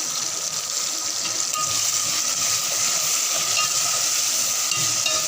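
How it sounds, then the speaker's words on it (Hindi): Crushed chillies fry in hot oil in a pot while being stirred for a white chickpea pulao, a close, steady crackling sizzle with scraping stirs and no talking. "1 टीस्पून मैं इसमें सब कुटी हुई मिर्च ऐड कर रही हूँ"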